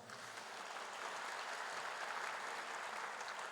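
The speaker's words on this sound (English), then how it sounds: "Let's give the Assemblymember a round of applause." Sustained, fairly distant applause from the audience at an Armenian Genocide commemoration event for an Assemblymember, a continuous even roar of many hands with no voices on top.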